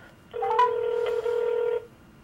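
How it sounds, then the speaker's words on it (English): Outgoing phone call ringing on the line: a single steady electronic ringback tone lasting about a second and a half, moderately loud over faint background hiss, with no voices. "let me call my mom and hopefully she will pick up"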